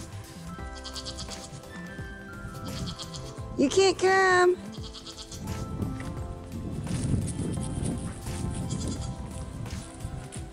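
Goats bleat on a farm on a spring day, one loud wavering bleat standing out in the middle over a busy background of animal noise and rustling, with a person speaking briefly nearby.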